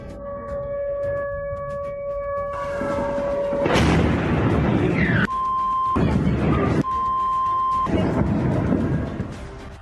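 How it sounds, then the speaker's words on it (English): Heavy booming explosions and bursts of loud blasts, interrupted by steady electronic beeping tones, with no talking. "you can hear bursts of gunfire and explosions"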